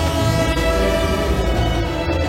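Train in an animated film sounds a loud sustained horn, a steady layered tonal blare held close over the low rumble of the moving train, with no speech.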